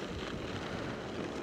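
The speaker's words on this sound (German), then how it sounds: "Ja, ist echt windig heute." Steady wind roars and buffets against the microphone on the island of Fehmarn, a constant broadband rush with no pauses.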